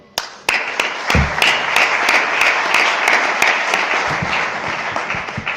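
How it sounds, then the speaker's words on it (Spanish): An audience applauds at a lecture evening, starting with a few sharp individual claps and swelling into steady, close clapping that thins slightly toward the end. "casi que os voy a pedir un aplauso"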